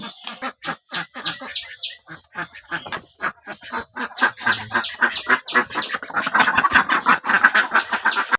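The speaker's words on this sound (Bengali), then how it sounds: "বন্ধুরা হাঁস ছেড়ে দিলাম," Released domestic ducks quacking loudly and close by in a busy, rhythmic chorus of honking calls that grows denser and more overlapping toward the end.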